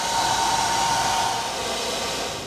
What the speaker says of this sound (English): We'll heat it up with a hairdryer so we can melt the ice.